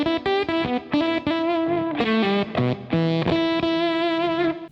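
Electric guitar through a Kernom Moho fuzz pedal pushed toward synth-like tones, a quick run of choppy, buzzy fuzzed notes and short sustained phrases, loud and close with no talking.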